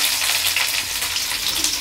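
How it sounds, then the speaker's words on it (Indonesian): Shallots and garlic sauté in about three tablespoons of hot oil for capcay, giving a loud, steady, crackling sizzle that fills the whole stretch with no talking. "Sekarang kita mulai menumis untuk capcay-nya."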